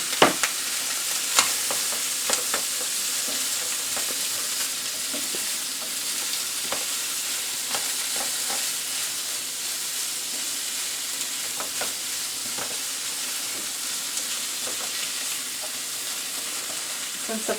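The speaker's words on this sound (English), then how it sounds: "Since the frying pan is good and hot, it starts to brown right away." Cubes of corned beef browning in a hot frying pan, giving a steady, close sizzle and crackle with scattered pops and the occasional stir, continuous from start to finish.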